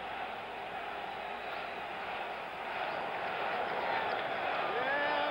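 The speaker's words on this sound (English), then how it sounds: "Got it going now. Listen to the crowd." Steady broad roar of a large crowd at Yankee Stadium during the 1976 ALCS Game 5, Kansas City at New York, building slightly as it continues, distant and diffuse with no clear voices above it.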